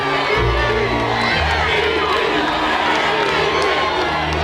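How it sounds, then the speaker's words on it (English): A huge crowd of St. Louis Cardinals fans roars and cheers at the 2006 World Series celebration, a dense, loud, continuous wash of shouts and whoops. "It was crazy to think that that many people took their time out of their day just to come down and cheer"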